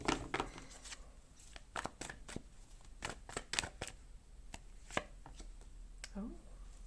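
Tarot cards being shuffled and cut in a series of crisp, sharp riffling and tapping bursts, close and fairly quiet, with brief pauses between them and no talk.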